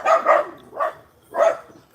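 Several dogs bark in bursts outdoors on a warm, breezy day in the Philippines, with three loud clusters of barks at moderate distance and short gaps between them.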